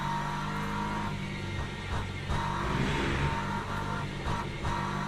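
Le Mans Ultimate race car engine in a multi-class sim race, a steady high whine that rises and falls with shifts and throttle lifts, up close and continuous without talk.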